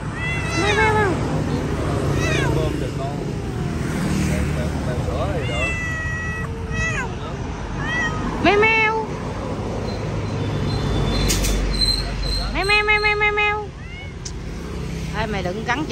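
Several kittens meow repeatedly in thin, high, wavering cries, close by, while someone talks to them over a steady background hum.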